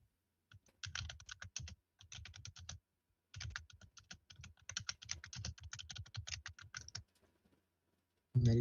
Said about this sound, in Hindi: मेरी खुद के कीबोर्ड की आवाज मेरे पास आएगी.